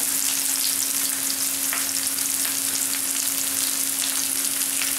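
Curry leaves sizzle as they hit liver frying in hot oil, producing a continuous loud crackling hiss with popping spatters close by and no voices.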